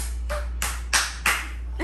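A small child claps their hands: four separate, fairly loud claps spaced unevenly over under two seconds, over a steady low background hum.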